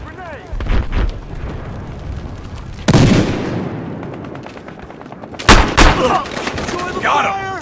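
A grenade blast and gunfire in Battlefield Hardline multiplayer: scattered shots, then a heavy explosion booms and rumbles away, followed by more loud bursts of fire, with voices calling out between them.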